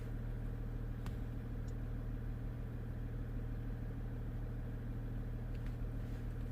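Steady low hum from the Quadra-Lift air suspension compressor on a faulty Jeep Grand Cherokee, droning continuously at moderate level with an even tone and no talk.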